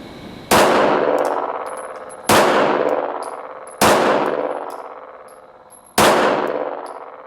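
Four loud, sharp pistol shots ring out during outdoor strong-hand training drills, spaced about one and a half to two seconds apart, each with a long metallic ringing decay.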